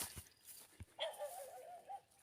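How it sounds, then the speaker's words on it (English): Dogs bark on a mountain road in the Philippines during rainy season, a few sharp barks early on followed by a longer whining, yelping call, moderately distant outdoors. "See, hear the dogs barking."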